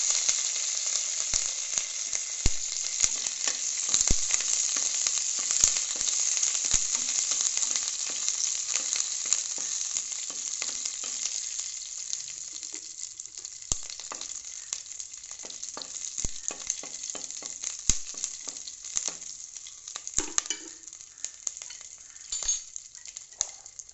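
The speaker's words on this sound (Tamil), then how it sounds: "கருவேப்பிலையும் ஒரு பச்சை மிளகா தூள் போட்டிருக்கேன்" Curry leaves and green chili frying in a pan for a Tamil ivy gourd aviyal, a steady close sizzle with scattered soft clicks and stirring taps throughout, no voices.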